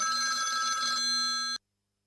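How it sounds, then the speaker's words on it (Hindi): A telephone rings from an unknown number in a drama scene: a steady electronic ringtone with bright layered tones that holds continuously for about one and a half seconds, then cuts off abruptly into silence. "ये अननोन नंबर से किसका फोन है?"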